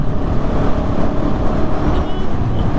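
A KTM 690 Enduro R motorcycle engine roars as it lifts the front wheel in a wheelie, a dense low rumble heavily buffeted by wind noise on the microphone.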